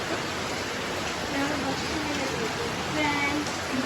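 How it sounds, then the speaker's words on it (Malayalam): Heavy rain pours down as a dense, even hiss of falling water that holds steady and fairly loud throughout, without pause. "നല്ല മഴയാണ്, ഓരോ സെക്കൻഡ് കൂടുമ്പോൾ മഴയുടെ ശക്തി കൂടുകയാണ്"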